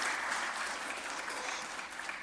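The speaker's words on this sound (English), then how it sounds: "I know we want to give applause when somebody's saying what you agree with" Applause from the public gallery in a city council chamber during a waterfront development debate, a steady even patter of many hands clapping, moderately distant, with faint crowd murmur.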